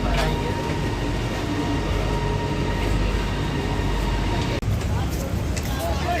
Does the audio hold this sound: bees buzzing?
no